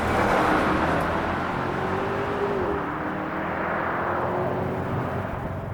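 A 2025 BMW M5 Touring, a 717 hp hybrid wagon, drives along with a steady, broad engine and road roar, heard close from inside, and the pitch dips slightly midway as it shifts or eases off.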